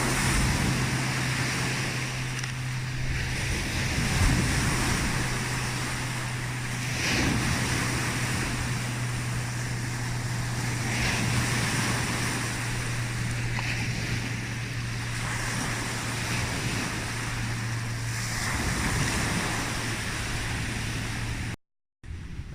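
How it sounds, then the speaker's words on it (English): Heavy water crashing as waves break on a shoreline, a constant roaring wash with periodic surges and wind buffeting the microphone, loud and unbroken for the whole stretch. "if you can even hear me over the crazy amount of water crashing here"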